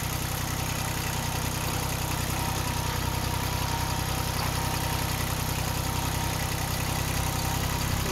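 A tractor engine idles with a low, steady rumble and vibration while hitched to a trailer moving a portable house, constant and fairly faint with no voices.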